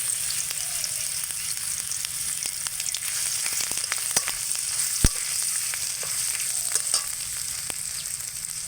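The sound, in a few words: grated ginger frying with cumin in hot oil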